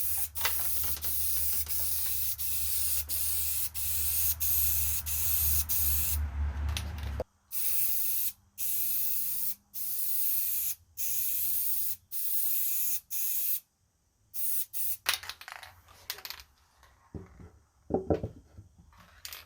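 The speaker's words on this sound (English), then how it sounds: "multiple light coats when you're spraying over this, and you'll see me doing that" Aerosol spray paint is sprayed over a stencil onto a wooden farmhouse-style sign. A run of quick short hissing bursts gives way to longer steady sprays separated by pauses, close and loud, with no talk.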